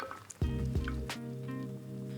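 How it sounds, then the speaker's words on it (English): A chickpea, haloumi and pita bread salad slides onto a presentation platter with a soft, wet squish and a few drips, close and quiet, with no voices. "I'm gonna pour this onto a presentation platter."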